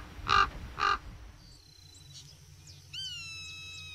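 A raven in a desert park gives two loud, hoarse caws close by, followed by quieter calls and whistling birds against a faint background hum.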